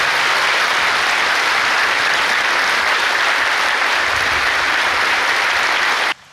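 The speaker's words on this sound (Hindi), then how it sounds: "clap loudly" A church congregation at a Hindi-language worship service claps loudly together, a dense, steady wall of applause that holds strong and then cuts off abruptly at the end.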